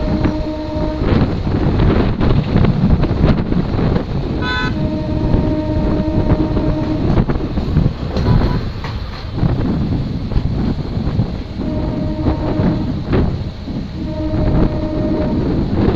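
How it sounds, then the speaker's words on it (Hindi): A local MEMU passenger train pulling into a station: steady loud rumble and rattle of the rail cars with wind buffeting the microphone, and a brief horn blast partway through, continuous for the whole stretch. "देख सकते हैं ट्रेन की अराइवल हो चुकी है दंगामा बाजार।"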